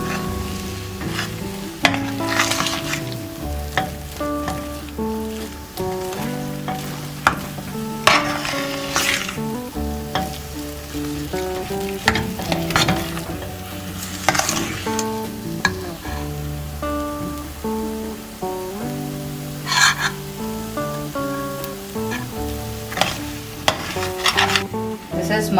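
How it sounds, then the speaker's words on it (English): Banana pulp being stirred and fried in ghee in a pan, with steady scraping and sizzling that runs continuously, close and moderately loud, over tonal background sounds. "When this banana pulp is sticky and which is sticking to a pan, I will add some ghee"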